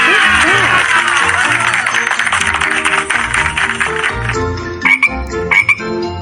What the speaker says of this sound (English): This is frog sound.